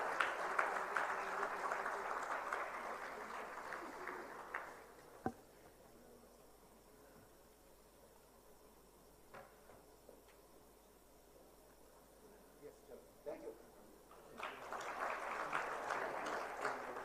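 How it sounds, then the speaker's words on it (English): Audience applause at a foundation-day ceremony, a faint, distant wash of clapping that fades into a quiet stretch with a few isolated claps, then swells again at the close. "A big round of applause, ladies and gentlemen."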